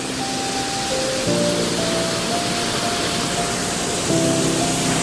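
Water pours steadily over rocks at a hidden waterfall in Bankura, a continuous close rushing wash with a few faint steady tones running through it.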